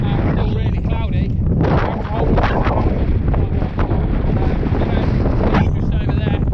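Strong gusting wind buffets the microphone on Cribben peak of the Pen y Fan horseshoe in Bannau Brycheiniog, loud and roaring with fluctuating gusts from start to finish.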